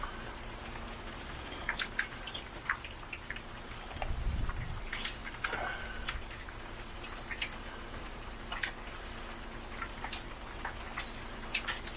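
Rain falls steadily and close outdoors where a mini brushless RC car is being driven, with scattered sharp drips ticking on nearby surfaces and a short low rumble partway through.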